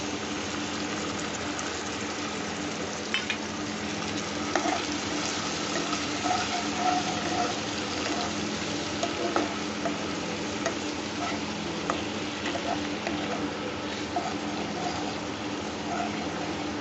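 Soy sauce and tomato sauce thinned with water bubble and simmer in a pan for cabbage Manchurian, a continuous close, even hiss of boiling liquid with a few faint clinks.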